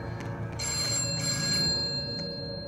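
A telephone rings in a Roblox horror game, a steady electronic bell tone repeating over a low ambient hum, moderately loud with no voices.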